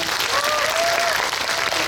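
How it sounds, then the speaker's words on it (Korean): A cinema audience applauds at a movie talk event in a large screening hall, with dense, steady clapping from many people filling the room for the whole moment. "네, 박수 부탁드립니다."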